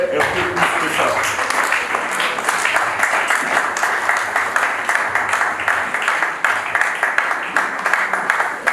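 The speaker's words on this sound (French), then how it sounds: "Acclamons bien-aimés un peu plus que ça." Church congregation applauding and cheering loudly and continuously, dense clapping filling the room with voices mixed in throughout.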